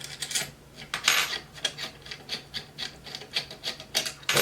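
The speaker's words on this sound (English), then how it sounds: "if you got different camera gear that needs Allen wrenches, or you can use them like I do to loosen and tighten these mounts" Allen wrench working camera gear mounts, a series of short scraping, rasping metal turns repeating in an uneven rhythm, close and fairly quiet with no talking.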